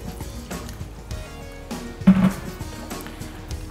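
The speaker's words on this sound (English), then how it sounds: "I'll add the water next," Water poured into a pot of catfish pepper soup in a home kitchen, a soft liquid splash and gurgle rising briefly amid low background clatter and hum.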